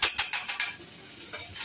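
Chopped garlic, ginger, chilli and curry leaves fry in hot oil for Chicken 65, a light crackling sizzle with a few sharp spatter bursts early on that then settles into a quieter, steady fry.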